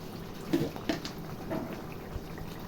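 A pot of cauliflower and pointed gourd curry simmers, heard as a quiet, low background bubble broken by a few soft pops and gurgles.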